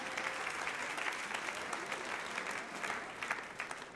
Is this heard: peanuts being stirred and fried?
no